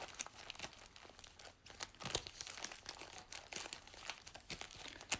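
A trading card pack being torn open, crinkly foil wrapper crumpling and ripping in fast irregular bursts, close but fairly quiet, with no talking.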